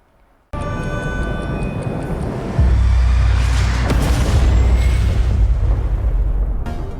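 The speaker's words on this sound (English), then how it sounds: "It's a car crash test at a speed of 120 kilometers per hour." Electric vehicle crash test at 120 km/h: a loud, sustained broadband rumble with a steady ticking pattern, which deepens into a heavier low boom partway through and holds there before cutting off.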